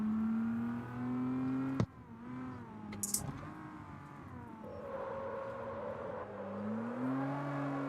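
A video game car in a street drift session, steered hard at a steep angle, gives off a steady whining engine drone that rises and falls. A sharp knock cuts in partway through, then the tone shifts and climbs again.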